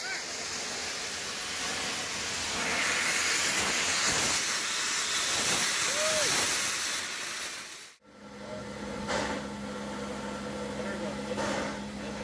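Steady broad hiss of steam from the Pere Marquette 1225 steam locomotive, a continuous loud rush that breaks off abruptly partway and resumes slightly quieter with a faint low hum beneath.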